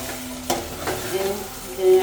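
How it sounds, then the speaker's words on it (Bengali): Meat being stir-fried in a pan, a low steady sizzle broken by a couple of sharp utensil scrapes, close by and with no voices. "আমার মাংসটা কষানো হয়ে গেছে"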